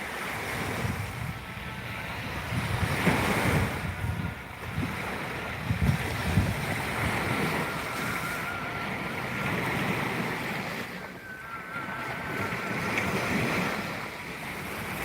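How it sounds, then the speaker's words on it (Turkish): Sea waves break steadily on the shore, a continuous loud roar that swells and eases in broad surges, with wind buffeting the microphone throughout. "şu dalga sesini çok seviyorum"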